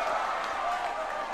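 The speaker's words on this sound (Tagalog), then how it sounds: "And the crowd goes wild with that sequence" A basketball crowd at a semi-final game in Virac, Catanduanes cheers and applauds after a play, a steady roar of many voices filling the space, loud and sustained throughout.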